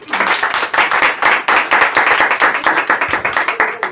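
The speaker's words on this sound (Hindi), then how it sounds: "ताली बजाओ इसी बात पे।" A group claps together at a sales meeting in a herbal store, loud close hand claps in a quick, fairly regular burst that fills the whole moment.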